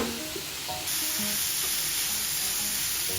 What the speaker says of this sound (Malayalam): ഈ ഉള്ളിക്ക് കുറച്ച് നമ്മൾ ഉപ്പിടണം. എന്നിട്ട് നമ്മൾ ഇളക്കണം.